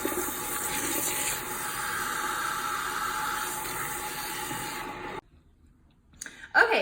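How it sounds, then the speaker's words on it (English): Steady running water rinses shampoo out of hair, a broad close hiss that holds for about five seconds, then cuts off before brief splashes and a short spoken word. "now we're gonna rinse everything out"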